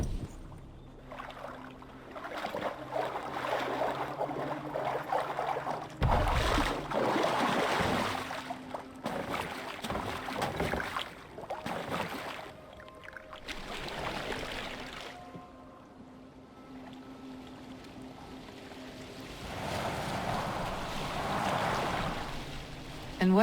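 A Viking longboat moving through water in the game Assassin's Creed Valhalla, with swishing, lapping water and creaking under intermittent voices.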